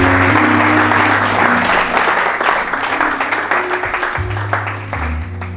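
Church congregation applauding and cheering loudly, dense sustained clapping with organ or keyboard chords underneath, continuing for several seconds before easing slightly.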